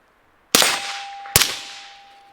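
Two sharp gunshots from a KelTec P50 firearm at a range, loud and close, spaced under a second apart, each followed by a lingering decaying ring.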